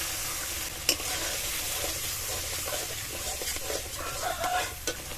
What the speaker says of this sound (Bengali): 3-4 মিনিট ধরে মশলাটা কষিয়ে নিয়েছি